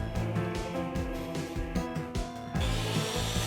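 Wooden crossbars for canoe stand slings being cut to length with a saw, repeated rasping strokes close up in an uneven rhythm, ending in a brief louder burst, no speech.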